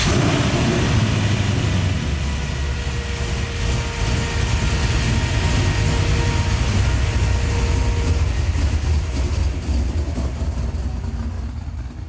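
A 750-horsepower big-block Ford Galaxie drag car engine runs at a steady, loud idle, its low rumble continuous and close throughout with no talk.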